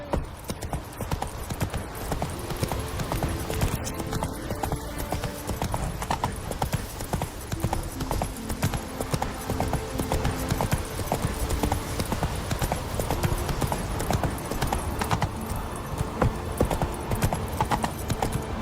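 Roach the horse's hooves clip-clop in a fast, continuous galloping rhythm in The Witcher 3, with faint game ambience underneath and a brief whinny-like sound early on.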